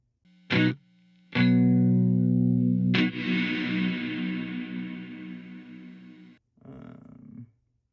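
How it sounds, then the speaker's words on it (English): Electric guitar through a Helix Stadium XL with a traditional reverb: notes and a strummed chord ring out with a lush, lingering reverb tail, after a couple of short plucked hits. "Let me change out the reverb just so I can see what it sounds like with the more"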